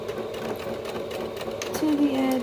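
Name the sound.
sewing machine straight stitching leotard fabric edge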